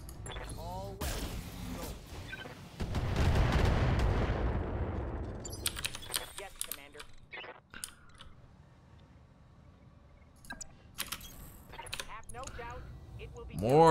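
Mech weapons in the Battletech video game fire in a heavy rolling barrage that swells then fades, followed by scattered metallic clanks and clicks, with brief voice moments.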